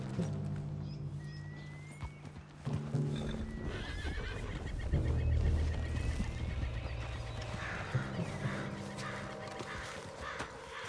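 A horse in the video game Red Dead Redemption 2 whinnies and snorts nervously, spooked, close by, with shuffling hooves and a crow cawing faintly in the distance.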